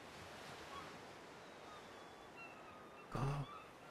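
Ocean surf in ARK: Survival Evolved washes softly and continuously with a faint windy hiss, quiet and distant, broken briefly by a short louder splash near the end.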